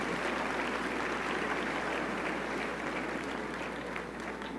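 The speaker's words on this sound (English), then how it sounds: "So please clap for yourselves." High school graduates at a technical school graduation ceremony applaud together in a dense, sustained wash of clapping that carries steadily throughout.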